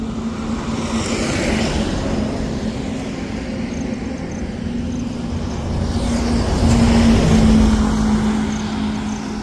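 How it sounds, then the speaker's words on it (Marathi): A car engine runs steadily after finally restarting following a breakdown on a road trip from Lonavla to Rajasthan. The close, constant rumble has a low hum that swells slightly toward the end. "फायनली आपली गाडी चालू झालेली आहे."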